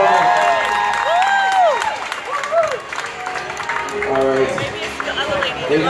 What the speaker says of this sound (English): A big round of applause for the birthday girl, ladies and gentlemen.